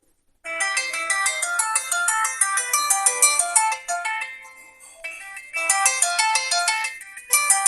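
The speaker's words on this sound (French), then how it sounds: "Sonnerie du téléphone." An Asus Zenfone Max 3 phone plays a bright electronic ringtone melody, loud and close, looping its phrase with brief gaps and no voices over it.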